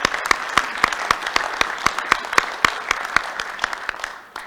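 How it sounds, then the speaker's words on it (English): Members at a Rotary club meeting give a short round of applause, a small group clapping in a loose, steady rhythm of sharp individual claps that thins out toward the end. "So if we could give them all a little round of applause."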